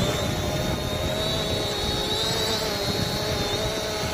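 An SJRC F11 folding drone rising in flight gives a steady, loud propeller whine and a constant high tone, with gusty wind rumbling beneath throughout, and no one speaking.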